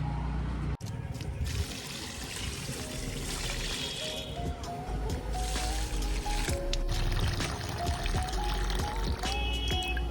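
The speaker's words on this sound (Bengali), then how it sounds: "গাছে জল দিয়ে দিলাম" Water poured onto drying jujube and garden plants, a continuous close splashing and trickling stream after a brief bump, with faint background sounds.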